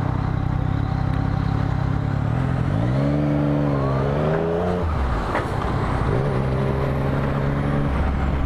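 A lorry engine rumbles loudly in road traffic at a roundabout, its pitch rising and falling as it pulls away amid constant engine and road noise.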